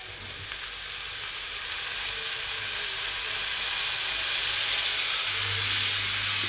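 Tomatoes sizzling in a frying pan, a loud, dense, continuous hiss of frying that swells slightly louder over the seconds, close up with no talking.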